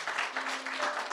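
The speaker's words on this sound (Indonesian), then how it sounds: "Luar biasa, tepuk tangan dulu." An audience at a testimony gathering claps in a short burst, a dense and fairly even patter heard from a middle distance.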